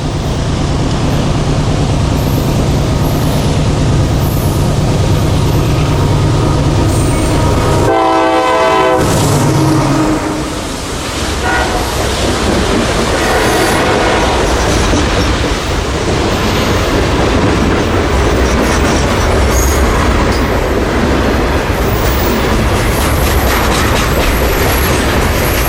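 Big freight train rolling past at close range with a loud blast of its horn, steady rumble and clickety-clack of wagons continuing throughout with faint wheel squeal.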